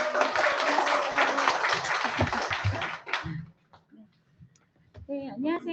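An audience claps warmly to welcome a speaker onto the stage at a gathering. The dense applause fills the first three seconds, then breaks off into a few scattered sounds and a voice.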